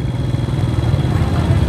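Motorcycle engines idle and putter in a heavy traffic jam in Bumiayu, Indonesia, a steady low rumble close by with a dense, continuous drone.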